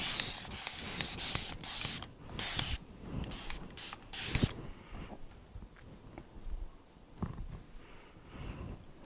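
A water spray bottle fires off a quick series of sharp hissing spritzes onto natural hair, several in a row close by, then quieter rustling and handling sounds.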